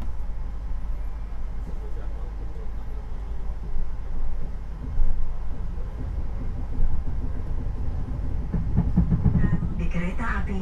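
Lodaya New Generation passenger train riding toward Solo Balapan, heard from inside the carriage behind double tempered glass: a steady low rumble and rattle of the running train, with a few louder bumps and swells.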